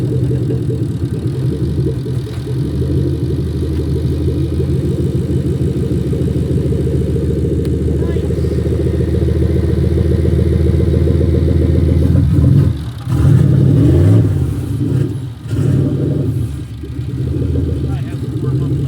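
A Nissan VK56 V8 swapped into a Ford Fairmont idles as it warms up, a steady low rumble close by, with people talking over it near the end.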